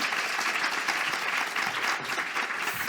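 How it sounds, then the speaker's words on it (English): An audience applauding at a public forum on a consent law, dense continuous clapping from a large crowd throughout, fairly loud and without breaks. "I think they deserve an applause."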